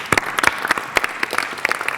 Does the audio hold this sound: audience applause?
yes